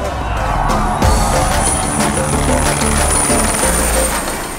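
A loud, steady helicopter roar with chopping rotor wash, close and low overhead at about 50 feet during a film stunt shoot, holding constant throughout.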